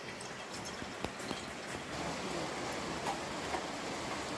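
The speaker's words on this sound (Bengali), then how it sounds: "বৃষ্টি তো জোরে এসে যাচ্ছে" Heavy rain falls outdoors at a rural home in the Sundarbans, a soft, even hiss of drops with occasional sharper ticks, fairly faint and continuous with no voices.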